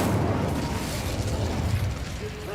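The Incendio fire spell in Hogwarts Legacy erupts as a dense, roaring whoosh of flame. The burst stays loud and continuous, then eases slightly toward the end.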